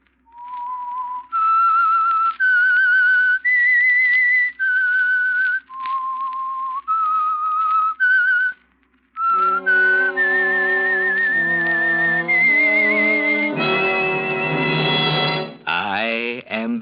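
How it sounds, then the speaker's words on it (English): A whistled signal tune for an old-time radio mystery show sponsored by an oil company: a lone, clear melody of held notes with short gaps, then orchestral chords join and swell toward the end. "That whistle is your signal for the Signal Oil Program,"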